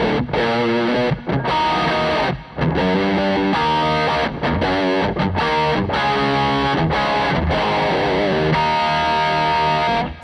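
Heavily distorted electric guitar through a Mooer Micro Preamp pedal into an amp's effects return plays a fast riff with chords and short breaks, washed in amp reverb, loud and close with no talking.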